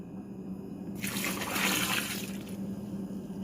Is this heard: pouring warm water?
yes